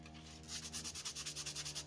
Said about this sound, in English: So, let's start sanding.